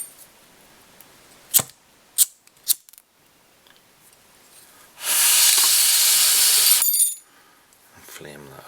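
A lighter flame melts the tying thread on a Red and Gold Zelda tube fly, heard as a steady hiss lasting about two seconds, close up, after a few sharp snips of trimming scissors.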